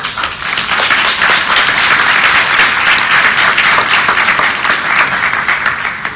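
A large Comic-Con audience breaks into loud, sustained applause, dense clapping filling the hall steadily from start to finish.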